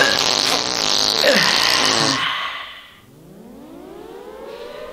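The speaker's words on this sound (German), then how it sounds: "Was ist denn das für eine Sirene da draußen?" A loud, rising wail fades out, then a second siren-like tone sweeps slowly upward in a long glide, with no talking.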